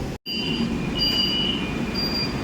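Steady rumbling drone of a nearly empty Kolkata suburban passenger train running near Taratala station, with a high metallic whine over it and a brief dropout at the start.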